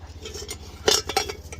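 Metal clinks and clatters as a brass kettle is handled among scrap brass and copper being sorted, a few close, sharp knocks over a low hum, with no talk.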